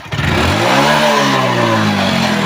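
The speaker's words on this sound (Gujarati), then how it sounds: "અલ્યા રગલા તું બાઈક ચલાવે" A motorbike engine revs loud and close, its pitch climbing and then easing back in one steady, continuous run, with no voices over it.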